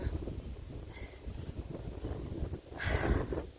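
Outdoor wind buffets the microphone in a steady low rumble, rising into a louder gust near the end, with no speech.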